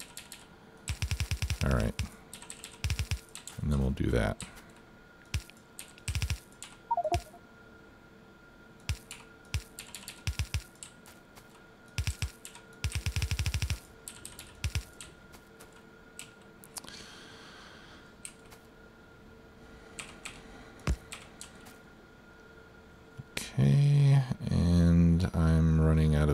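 Computer keyboard keys, arrow keys among them, tapped in quick irregular bursts while playing the Factorio AngelBobX mod, close and fairly crisp, with someone talking at intervals and game sounds underneath.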